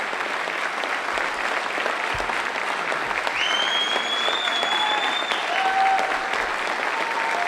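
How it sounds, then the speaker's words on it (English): An audience at a live political debate event claps loudly and continuously, a sustained wash of applause from a large crowd, with faint whistles rising above it partway through. "Give them a round of applause, please."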